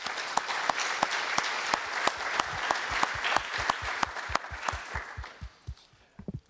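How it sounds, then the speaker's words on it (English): Audience applause at a drone deconfliction conference session, a dense burst of close clapping that carries on steadily before thinning out and fading to a few scattered claps at the end. "If we could give them a round of applause, please."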